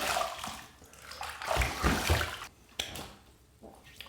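Running water splashes as a safety razor is rinsed, a close gurgling stream that rises and falls, with a few sharp knocks and brief gaps in the flow.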